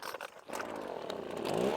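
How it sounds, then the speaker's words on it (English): Small handheld gas leaf blower engine, primed and choked, sputters and then catches, its motor rising into a steady buzzing run that grows louder toward the end, up close with no talk. "you can use a blower. Little handheld fella just like this."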